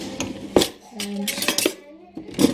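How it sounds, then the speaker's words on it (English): Metal ladle clinking and scraping against a pot and dish while spooning sauce over macaroni, several sharp clanks in quick succession with a brief voice in between. "get a ladle and just spoon it over the macaroni."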